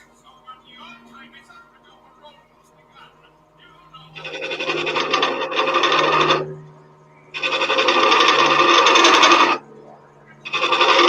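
A woodturning gouge cuts into wood spinning on a lathe, making loud rasping scrapes in three sustained passes, each lasting a couple of seconds, after a stretch of quiet talk.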